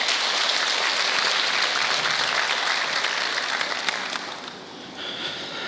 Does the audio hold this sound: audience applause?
yes